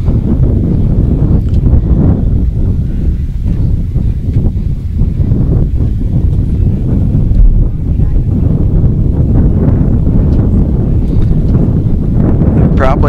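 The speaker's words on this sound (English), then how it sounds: "Probably those watching can hear the wind picking up." Steady wind buffets the microphone outdoors at a drag race, a loud continuous low rumble with gusty fluctuations throughout and no clear speech.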